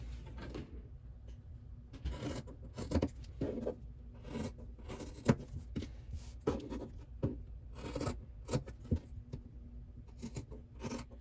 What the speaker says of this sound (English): I'm just gonna go ahead and line all of these up, cut it all at once.